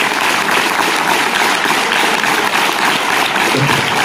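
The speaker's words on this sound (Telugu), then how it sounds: "గట్టిగా క్లాప్స్ ఇస్తే" Students in a school gathering clap loudly for their teachers, a dense, steady wash of many hands that holds at full strength for about four seconds, close and continuous.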